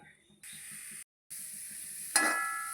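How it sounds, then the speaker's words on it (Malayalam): Soft sizzling of grated coconut roasting in a pan, with light rhythmic stirring scrapes and a brief pause. "നമുക്ക് ഇതിനാവശ്യമായ തേങ്ങ വറുത്തെടുക്കാം"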